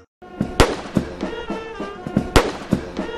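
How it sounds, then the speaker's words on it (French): Sharp, loud blank cannon blasts of a 21-gun salute boom one after another at uneven intervals outside Jubilee House in Accra, Ghana, each followed by a short echoing tail. "21 coups de canon tirés à blanc résonnent depuis le parvis du Jubilee House d'Accra au Ghana"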